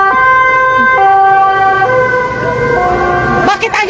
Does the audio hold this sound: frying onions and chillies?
no